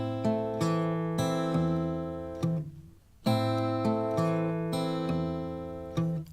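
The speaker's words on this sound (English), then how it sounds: "But the rhythm with our fingers goes like this." Fingerstyle acoustic guitar pattern with a steady, unchanging bass line under a syncopated fingered rhythm, played alone at close range in repeating phrases with a brief gap midway.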